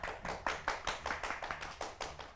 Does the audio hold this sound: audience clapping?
yes